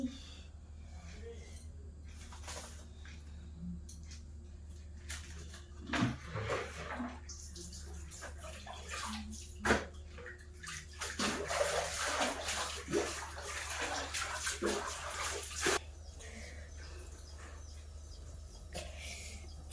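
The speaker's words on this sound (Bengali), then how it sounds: "চলো তো কাপড়গুলো ভিজাই দেই" Clothes being soaked in water for washing at home, with splashing and sloshing bursts of water in a basin against a steady background hum, a couple of sharper knocks, and faint bird calls.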